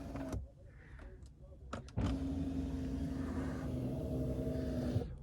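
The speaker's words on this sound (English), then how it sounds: "Now, I could close the windows or the curtains" Power windows or privacy curtains on a luxury SUV closing with a steady electric motor hum lasting a few seconds, preceded by brief clicks and ending with a soft stop, close and moderately loud.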